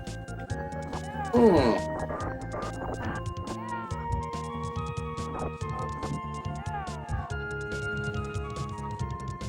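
Horse hooves clip-clopping and a brief neigh in a Nintendo video game, set among game music and effects, with a person talking over parts of it.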